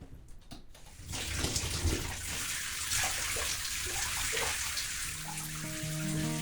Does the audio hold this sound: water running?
yes